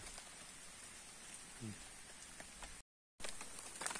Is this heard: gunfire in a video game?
no